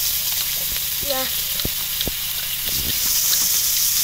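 Prawns fry in hot oil with a steady, close sizzle throughout, and a few short clanks and scrapes of stirring break through partway.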